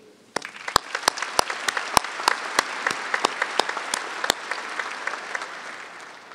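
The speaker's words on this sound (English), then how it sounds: "Please join me in a round of applause for the staff who organized today's ceremony." Graduation ceremony audience in a large arena applauding the organizing staff: a few sharp, loud individual claps first, then broad, even clapping from a big crowd, echoing and sustained.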